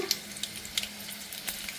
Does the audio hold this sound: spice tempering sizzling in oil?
yes